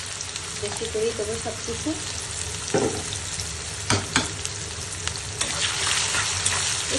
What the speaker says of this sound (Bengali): এবারে দেব রসুন কুচি আর পেঁয়াজ কুচি।